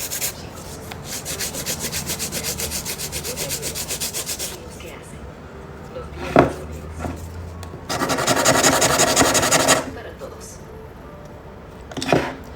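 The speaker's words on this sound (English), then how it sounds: "With that rough filing, I'm not going hella hard." Nail file rubbed roughly across a fingernail in quick rhythmic back-and-forth strokes, close and rasping, in two bursts with short scrapes between.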